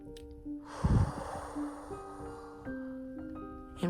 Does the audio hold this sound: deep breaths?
yes